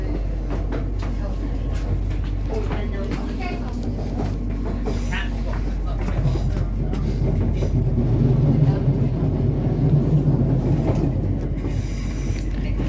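A ScotRail passenger train rumbles along near Glasgow's King's Park and Cathcart stations, a continuous low interior drone with faint wheel clatter and squeal, while people talk on board.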